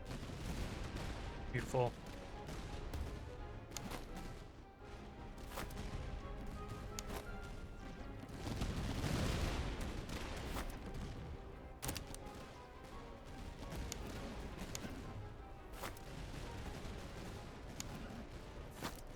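Troops open fire in the Master of Command video game, a Commonwealth army unit, in a sustained crackle of scattered musket-like shots over a busy battlefield din, with a brief spoken word.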